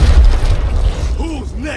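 A frag grenade goes off in Gears Tactics with a loud, deep boom and rumbling low-end aftermath. The blast is heavy and close, and short vocal-like tones sound faintly as it fades.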